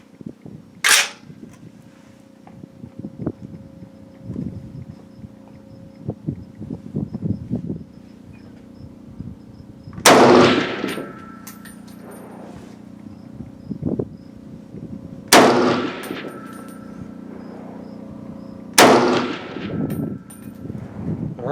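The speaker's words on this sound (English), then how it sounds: "Luke's going to do another 3 shots with the iron sights" Three loud, sharp rifle shots from a Century Arms C308 fired with iron sights, spaced several seconds apart, each with a short ringing tail, amid quiet outdoor background with faint insect chirping.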